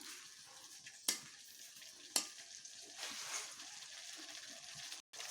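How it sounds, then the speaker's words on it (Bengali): Paneer stirred through a sauce loosened with a little water, a soft, quiet bubbling simmer with two sharp clinks of a spoon against the pan early on and gentle scraping throughout, no voices. "আমি একটু জল দিয়ে নিলাম আর এগুলোকে একটু ভালোভাবে এইভাবে মিশিয়ে নিচ্ছি"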